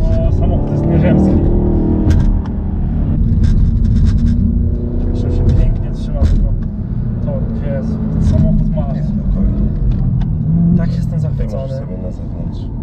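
A Chevrolet Camaro ZL1 driven fast on a race track: a loud, continuous engine rumble with shifting revs fills the whole stretch, with people talking over it throughout.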